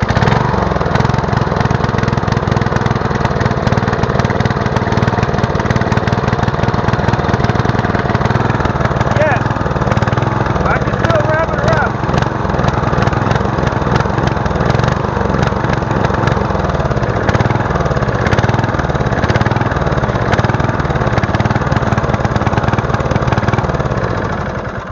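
A small engine runs steadily at a constant idle, loud and close, with a continuous buzzing drone throughout.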